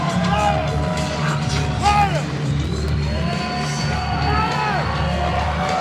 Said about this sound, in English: This crowd absolutely thrilled, loving this.